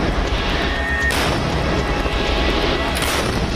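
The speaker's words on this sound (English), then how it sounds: "Live firing trials of the indigenously manufactured Advanced Towed Artillery Gun System or ATAGS at Chandipur in Odisha." Indigenously manufactured Advanced Towed Artillery Gun System (ATAGS) during live firing trials at Chandipur, Odisha: dense, rumbling booms and blast noise filling the whole stretch, with a sharper burst near the start and another toward the end.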